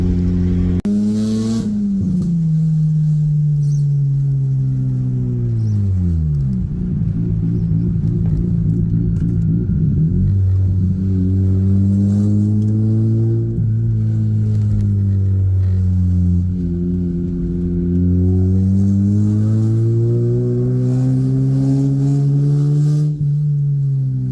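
A car with a loud Bridgeport-ported rotary engine revs hard and close, the exhaust climbing and falling in several long sweeps over a deep, buzzing idle.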